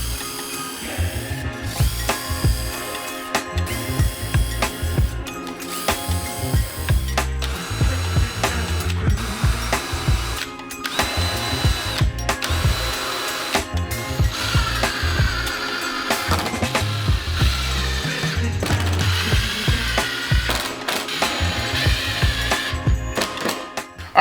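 Wooden legs being screwed together with a power drill or driver, bursts of whirring and ratcheting clutch clicks repeating in short on-off runs, close and fairly loud, no talk.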